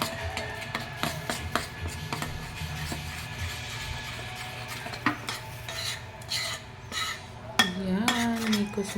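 Butter and flour are mixed in a bowl, giving close scraping and stirring sounds with light clinks of utensil against the dish, and a brief voice is heard near the end.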